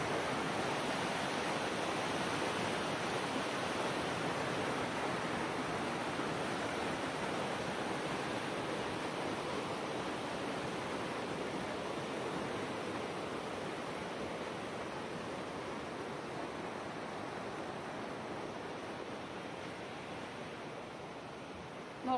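A river seen from a bridge rushes steadily at full volume, a dense, continuous roar of flowing water that barely changes and has no voices over it.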